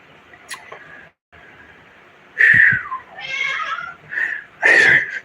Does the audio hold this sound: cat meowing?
yes